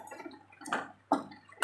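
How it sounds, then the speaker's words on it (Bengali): Hot water poured into pressure-cooked chana dal in a pot: three short splashy gushes, close and fairly soft, with quiet pauses between them. "আর এই যে জল, আমি একটু গরম জল দিচ্ছি"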